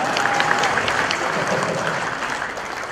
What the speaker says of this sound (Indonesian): Tepuk tangan buat saya.